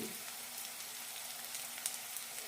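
Masala spices, ground coriander, turmeric, cumin and pepper, sautéing and roasting in a pan for cauliflower masala curry, giving a steady close sizzle with light crackle and occasional stirring taps, no voices.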